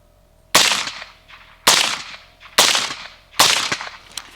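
An MK18 rifle fires underpowered steel-cased ammo at steel targets, four sharp loud cracks spaced about a second apart, each trailing a brief ringing echo, with no talk.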